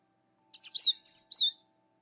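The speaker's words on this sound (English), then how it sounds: "A contented, fat blue bird and his reflection." A fat blue bird in the video game The Book of Unwritten Tales 2 chirps a quick series of bright, high tweets, clear and close, with a faint steady hum underneath.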